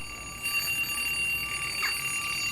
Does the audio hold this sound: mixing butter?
no